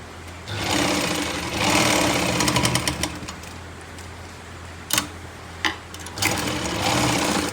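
A sewing machine stitches palazzo pants over an elastic waistband, running in steady bursts with short pauses and sharp clicks between runs.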